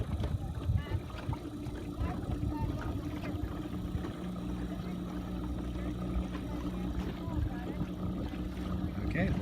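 Small electric motor pushing a kayak at high speed setting across light chop, a steady low drone with water sloshing against the hull throughout, a person talking over it.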